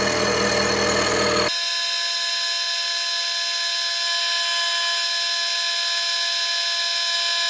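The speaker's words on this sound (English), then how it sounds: "What you're hearing is the interrupted cuts from the slots." Machining interrupted cuts across the slots of a 1937 Harley-Davidson Flathead crankcase for an oil seal modification, a loud, continuous, steady whine with a rougher burst at the start.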